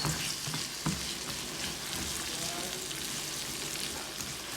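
Onions frying in a pan for garlic chilli noodles crackle with a dense, even sizzle and a few stirring scrapes, close up and steady throughout.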